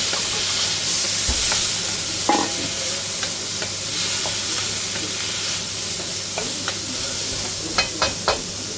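Carrots stir-frying at the start of a mixed seafood stir fry, a steady close sizzle with a few scraping stirs and light clinks of the utensil against the pan near the end.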